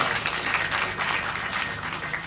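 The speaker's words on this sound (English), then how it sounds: "Another round of applause," Applause at a live Kenyan education event for the release of KCPE results, a steady wash of clapping held at an even, moderate level throughout, with no voices standing out.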